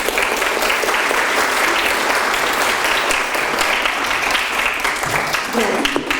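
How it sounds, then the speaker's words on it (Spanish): Warm applause from an audience at a literary conference, dense and steady at close range throughout, tapering slightly near the end as a voice begins. "Un aplauso para ella."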